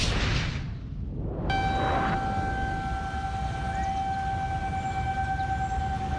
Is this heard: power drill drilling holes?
no